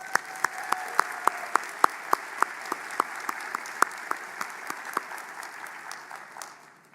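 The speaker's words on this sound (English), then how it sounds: "Let's give them a round of applause." A small group at a doctoral graduation ceremony claps, the individual hand claps sharp and clearly spaced, gradually thinning and fading out near the end.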